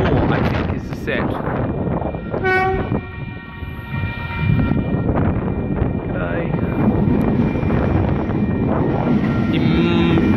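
A Sydney train races through Wondabyne station without stopping, a loud, steady rumble of wheels and carriages with a brief horn blast, while people talk nearby.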